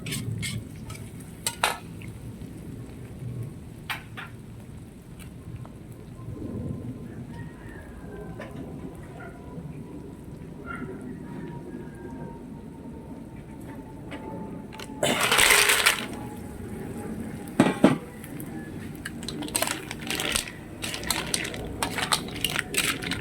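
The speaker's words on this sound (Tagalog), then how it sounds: "ilalagay na agad natin yung tahong" Mussels are tossed into a pan with butter and onion, giving sizzling, utensil scrapes and clinks of pot and spoon, with a loud clattering burst midway and scattered knocks, close with no talking.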